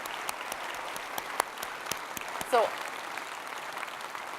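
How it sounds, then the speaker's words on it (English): Audience applause for a conference planning committee standing to be recognised, a steady wash of clapping with a brief louder swell near the middle, and a voice speaking once over it. "Give them a warm welcome and a round of applause."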